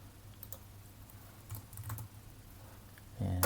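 Code being typed on a computer keyboard, a soft steady patter of key presses at fairly low level, close by, with a slightly louder flurry of keystrokes at the end and no speech.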